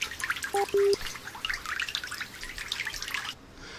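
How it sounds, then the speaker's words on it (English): Water runs from a tap in the background, a continuous splashing trickle with a couple of short electronic beeps near the start, cutting off abruptly near the end. "Nobody ever seems to notice the water running in the background."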